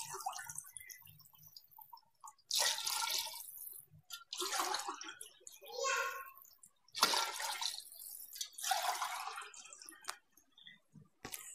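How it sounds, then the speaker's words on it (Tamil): Water is poured into a cooking pot for chicken biryani in several separate splashing gushes with short quiet gaps between them, fairly close and without speech. "இப்போ நம்ம வந்து ஒரு படி தண்ணி ஊற்ற போகிறோம்"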